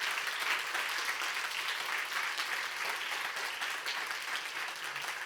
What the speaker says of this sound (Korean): 먼저 격려의 박수 한번 보내주시고요.